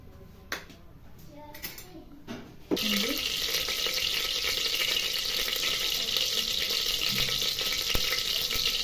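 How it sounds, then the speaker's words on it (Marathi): Spices and garlic dropped into hot oil to temper dry prawn rice, a few soft clinks before a sudden burst of loud, steady sizzling that carries on evenly to the end. "चला आता फोडणी देऊया आपण भाताला।"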